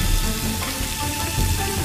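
Breaded pork chop sizzling as it deep-fries in hot oil, a steady close crackling hiss with bubbling that runs evenly throughout without pause.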